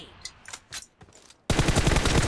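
Gunfire in the PUBG Mobile battle royale game: a few scattered shots, then from midway a loud, dense burst of sustained automatic fire fills the rest.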